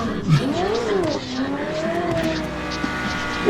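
A Ford Mustang drives wildly nearby, engine revving and tires squealing in rising and falling sweeps, with background voices and crowd noise.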